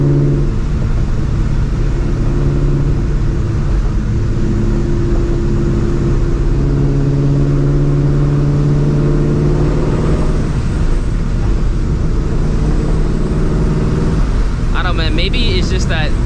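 Supercharged 2004 Ford Mustang GT engine droning with a steady low rumble and rising, sliding harmonic tones as it revs, loud and close throughout, with a brief crackly burst near the end.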